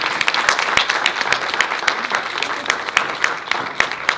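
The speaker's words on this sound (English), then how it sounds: "Give them a round of applause." Steady applause from an audience at a public school program on marijuana use, dense clapping throughout with a few sharper individual claps standing out.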